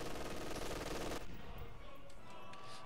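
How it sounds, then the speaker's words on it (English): Machine gun fire in a World War II strategy video game: a rapid burst of rattling automatic shots that cuts off after about a second, followed by distant battle noise. "Good bit of fire coming in from the MG."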